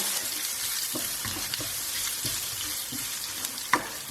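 Fresh garlic and ginger frying in a pan for a chicken jalfrezi, a continuous close sizzle broken by regular spoon knocks and scrapes and one sharper clink near the end.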